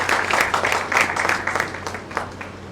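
An audience at a Shiv Sena medical aid cell eighth anniversary event applauds Dr. Nandita Palshetkar, a steady, fairly distant wash of clapping with rhythmic swells running the whole time.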